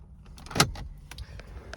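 A car's power window motor whirs briefly amid light clicks and rattles inside the cabin, with a sharp thunk partway through; no talking.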